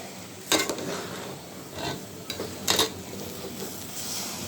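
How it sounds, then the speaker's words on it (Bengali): Rice for biryani fries in a pan on a home stove, a soft steady sizzle broken by a few sharp scraping stirs of a spoon against the pan. "চালটা ভেজে তারপর আমি দিব"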